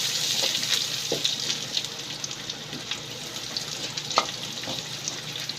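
Garlic and ginger sizzle steadily in a hot pan while cooking pork sisig, with a constant crackling hiss dotted by sharper pops and occasional scraping as they are stirred.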